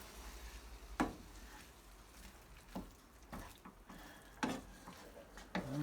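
An egg frying in a pan gives a faint, soft sizzle, broken by a few sharp clinks and scrapes of a utensil against the pan.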